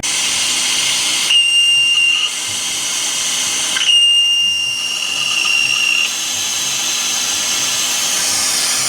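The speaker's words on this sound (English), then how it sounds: "So we're gonna raise it up, put the wheels back on, and then take this one off the hoist." Air tools and a lift work on a Dodge Hellcat in a repair shop as the car is raised and its wheels refitted: two loud hissing bursts, each with a thin whistle, stand over a steady background rush.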